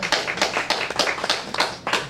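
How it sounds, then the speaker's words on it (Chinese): An audience claps in a rally of applause, a dense run of close hand claps with irregular peaks, lasting about two seconds. "来，我们跟他鼓掌一下。"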